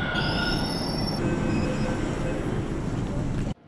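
A Delhi Metro train rolls along with a loud, sustained metallic wheel squeal over a dense rumble, close and constant until it cuts off abruptly near the end.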